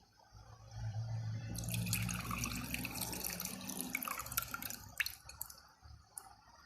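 A sauce mixture for Mongolian beef pours into hoisin sauce in a steady, soft liquid stream with light splashing and dripping, close and fairly quiet, with no talking.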